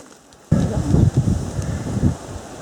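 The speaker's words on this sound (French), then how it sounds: "Le vent se lève." Wind picking up on a mountain hike in the Vosges, rushing into a close broadband gust that suddenly starts, swells and buffets the microphone for a couple of seconds.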